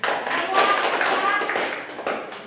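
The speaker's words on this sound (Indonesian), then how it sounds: "Baik, tepuk tangan dulu." A classroom of students clapping together, a dense patter of many hands with some voices mixed in, fairly close and steady, tapering off near the end.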